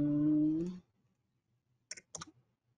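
A short bit of speech, then a pause and two crisp mouse clicks close together, close and clean against near silence.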